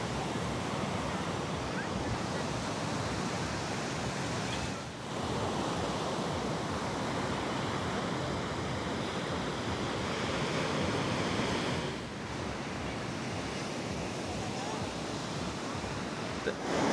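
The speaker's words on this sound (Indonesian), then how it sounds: "Ombak di Pantai Setro Jenar termasuknya itu gede gitu ya." Big ocean waves roll onto Setro Jenar beach in a continuous loud roar of surf, with wind buffeting the microphone and brief dips in the wash between breakers.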